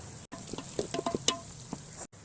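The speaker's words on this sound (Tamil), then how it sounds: "இப்போது நான் வெங்காயம் ஆட் பண்ணிக்கிறேன். வெங்காயம் நல்லா வதங்கட்டும்." Onions sizzle as they fry in hot oil for chicken biryani, a close, crackling hiss with small pops and brief stirring sounds.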